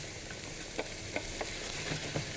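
Sausage frying in hot oil in a pan gives a steady, dense sizzle, close and continuous, with a few light taps of a utensil against the pan.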